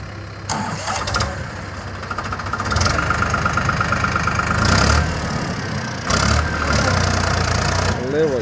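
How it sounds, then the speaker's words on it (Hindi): A Farmtrac 60 PowerMaxx tractor's diesel engine runs and revs in repeated bursts close by, surging and easing, while people talk over it. "देखो भाई फार्म ट्रक की पावर"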